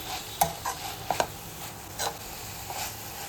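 Ponaganti greens curry being stirred in a pan, several sharp scrapes and clacks of a spoon against the pan over a faint low sizzle, close and fairly quiet.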